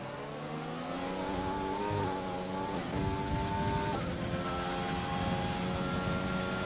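Williams Formula 1 car from an F1 video game on a flying lap at Bahrain, its high-pitched engine screaming continuously and shifting up through the gears, loud and steady with no talk.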